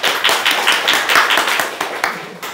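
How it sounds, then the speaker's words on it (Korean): A small group claps hands in quick, uneven bursts, loud and close, the claps overlapping in a lively patter for a couple of seconds. "박수 한번 쳐줘"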